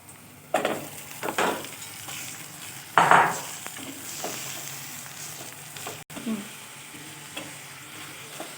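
Minced meat (qeema) dropped into golden-browned onions frying in a pot, a close sizzle with bursts of stirring and spoon scrapes, loudest near the start, with no talk.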